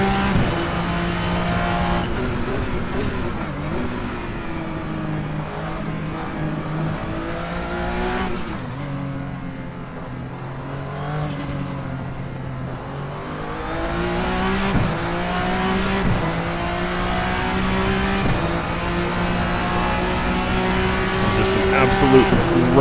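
A Vendetta V60 race car in a sim racing game screams at high revs, climbing through the gears and dropping briefly on downshifts before surging again toward about 300 km/h, loud and continuous throughout.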